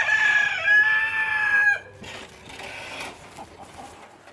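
Chickens in a garden, a rooster's drawn-out crow up front followed by scattered clucks and soft fowl chatter, fairly close, with no talking.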